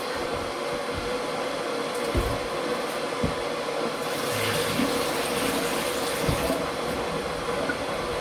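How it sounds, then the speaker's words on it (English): Water is poured off in a steady splashing stream, with a few soft knocks and a brief swell of louder gushing midway; no one speaks. "I'm going to take some of this water off."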